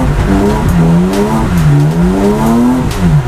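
A drift car accelerates hard while cornering counterclockwise on a track, its engine revving loudly up and down in sweeping pitch changes with tire noise, close and alone without talk.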